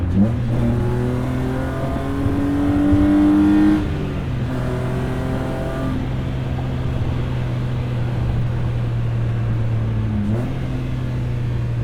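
A BMW E30 fitted with an S52 engine and a 4.10 rear end is driven hard, the engine revving loudly and steadily in-cabin, with shifts and renewed acceleration partway through, no voices.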